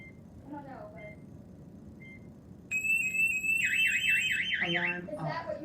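A SimpliSafe home alarm system sounds indoors: after soft beeps under talk, a loud piercing siren kicks in with a rapid warbling tone for about two seconds, then cuts off as people speak.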